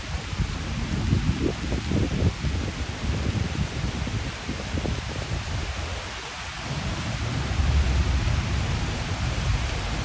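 Steady rain pours outside in a dense, continuous hiss, with low rumbling swells underneath and no voices.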